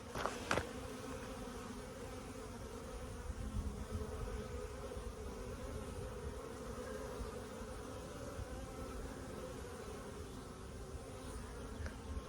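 Honeybees buzz continuously around three hives as foragers bring in loads of pollen, a dense, steady outdoor hum with no speech.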